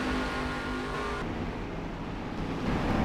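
Race trucks on a track during a truck series race make a steady, moderately loud engine drone that shifts in tone as they pass, with no talk.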